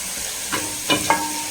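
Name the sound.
biryani masala stirred and fried on high flame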